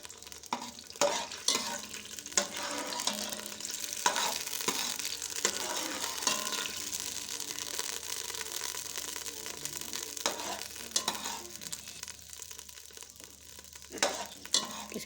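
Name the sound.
ginger garlic paste frying in hot oil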